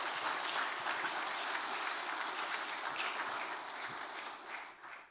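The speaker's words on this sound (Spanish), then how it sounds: "Dele un aplauso al Señor." A church congregation applauding the Lord during a sermon, a dense, steady wash of many hands clapping that holds loud throughout and tapers off slightly at the end.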